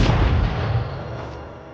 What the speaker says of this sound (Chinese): 掏出了手枪，枪声也一下惊到了尼克